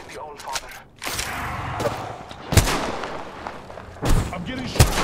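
Gunfire in the video game Apex Legends: several sharp, loud shots and bursts arrive at irregular intervals over a dense background of game noise, with a voice speaking at times.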